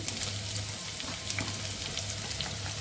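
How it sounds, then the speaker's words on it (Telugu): Eggs frying in hot oil in a pan for egg biryani, a steady dense sizzle with crackling pops running continuously at moderate level, no voices over it. "ఇప్పుడు ఎసరు ఆయిల్ కాగింది వేసేసుకున్నాను"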